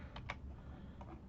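Faint keystrokes on a computer keyboard, a few soft clicks in quick succession and then a pause, heard quietly over low background hum.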